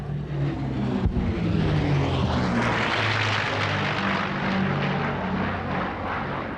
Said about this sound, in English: get set for the power and the grace of the P-51 Mustang